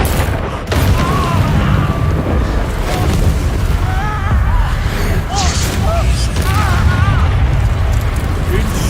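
An Incendio fire spell is cast in the Hogwarts Legacy video game, a loud, continuous roaring blast with booming bursts and scattered chirping tones. Voices come through amid the effects.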